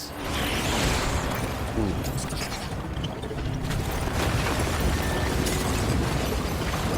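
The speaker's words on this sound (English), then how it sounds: "and then drop it, and then start using other grenades" Grenade blasts and rumbling explosions fill the Death Stranding game scene, continuous and loud, with a voice briefly exclaiming over the din.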